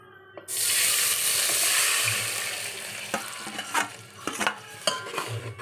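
Grated cucumber drops into hot ghee in a pan with a loud burst of sizzling that settles into a softer frying hiss, broken by clinks and scrapes of a utensil against the pan.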